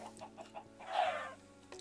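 Chickens in Minecraft 1.2.5 cluck faintly in a soft series of short notes, with one louder, slightly longer squawk in the middle over a quiet background.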